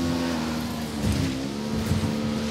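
A motorbike engine in Ghost Recon Wildlands hums steadily at close range, its tone shifting slightly as it revs, with no talking over it.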